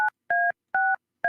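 Four dual-tone keypad beeps from a phone dialing a number for an outgoing call, each a clean, steady electronic tone of about a quarter second, evenly spaced with short silences between, close and clear with no voices.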